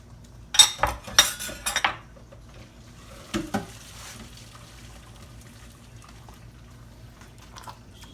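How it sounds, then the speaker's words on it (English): Cooked pasta being drained and tipped into a pot: a couple of loud bursts of rushing water and clattering at the start, then a few softer knocks and faint kitchen sounds. "Now, let me drain my pasta."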